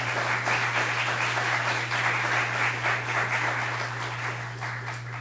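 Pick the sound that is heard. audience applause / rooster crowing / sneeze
audience applause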